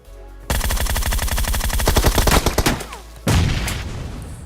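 Loud automatic gunfire from a shooter video game, a rapid string of shots followed by a second heavy burst, close and dominant.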